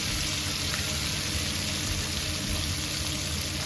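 Chicken wings fry in hot oil with a steady, dense sizzle and crackle that stays even and close throughout, with no talking.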